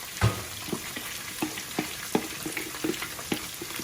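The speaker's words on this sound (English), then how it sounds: "you can put the onions in there now" Onions fry in a pan with a close, steady sizzle, broken by a heavy thump at the start and a regular series of spatula stirs and scrapes.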